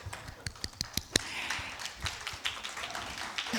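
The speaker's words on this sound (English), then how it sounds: "Thank you for clapping for my name" Audience in a hall giving a short round of clapping for a speaker's name at a women's recognition event, a scatter of distinct claps that thins into lighter, softer applause.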